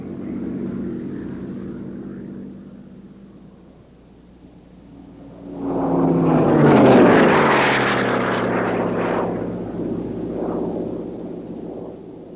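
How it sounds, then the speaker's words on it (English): A P-51 Mustang propeller fighter flies past at an air show, its engine drone fading to a lull, then swelling into a loud, rasping roar around the middle before tailing off into the distance. "Ed Wiener's zebra-striped Mustang"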